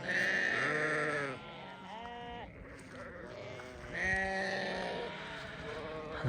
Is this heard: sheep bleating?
yes